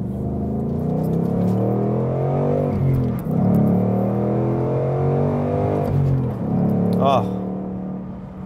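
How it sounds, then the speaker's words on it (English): A 2019 Ford Mustang Bullitt accelerates on its normal exhaust setting, producing a steady, deep, throaty growl that rises and dips through gear changes, with a short spoken exclamation near the end. "It's just so much growl to the exhaust note. And this is just the normal exhaust note."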